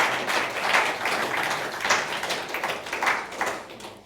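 Conference keynote audience at Mautic Conference Europe 2024 applauding community contributors, a steady wash of many hands clapping throughout with no talk over it.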